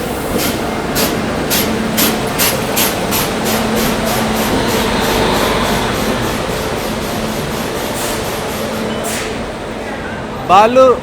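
Farakka Express 15744, hauled by a Kanpur-shed WAP-7 electric locomotive, arrives at platform 16 of a busy Indian station: rhythmic wheel clacks over rail joints under steady rolling rumble, someone talking throughout, and a brief horn-like tone near the end.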